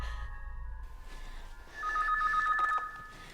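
A telephone rings in a horror drama, an electronic trilling ring that starts partway in and sounds as a warbling burst of roughly a second, fairly close and clear over a quiet background.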